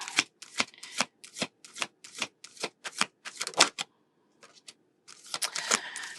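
Tarot cards being shuffled by hand, heard as a quick run of close, crisp riffling bursts with short gaps and one brief pause, with no speech over them.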